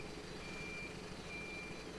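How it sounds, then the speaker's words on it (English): A septic tank truck reverses up a steep road, its steady reversing beeps sounding continuously over a loud diesel engine rumble. "the truck will park up here, and then we need to connect the septic tank to the truck"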